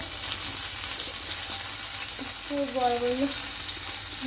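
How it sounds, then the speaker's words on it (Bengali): Paneer cubes fry in hot oil with a continuous soft sizzle, near and steady, while a brief tonal sound rises faintly in the background. "পনিরগুলো এখন ভেজে নেওয়া হচ্ছে।"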